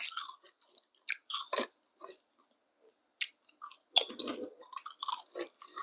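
Someone bites into and chews homemade Thai mushroom crackers up close: sharp, crisp crunches in quick bursts with short pauses between bites, and no talking.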